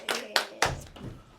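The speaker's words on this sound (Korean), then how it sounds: "우리 박수 치고 시작하겠습니다." A few sharp hand claps at a Tuesday Bible study class, three distinct close claps in quick succession followed by a softer fourth, with a voice faintly present.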